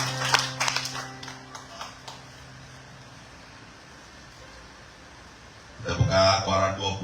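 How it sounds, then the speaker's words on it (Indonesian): A church congregation clapping during a sermon: scattered claps near the start, then a louder burst of applause at the end, with a voice speaking nearby. "Tepuk tangan."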